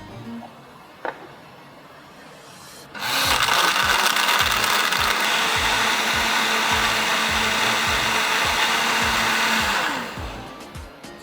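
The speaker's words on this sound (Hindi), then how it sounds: "जाएगा इसमें आइस क्यूब्स और तकरीबन 2 मिनट तक हमने इसको ब्लेंड करना है हाई स्पीड पर।" A blender whirs at high speed through yogurt, fruit and ice cubes for a smoothie, a loud sustained roaring grind that starts abruptly, holds for about seven seconds, then cuts off.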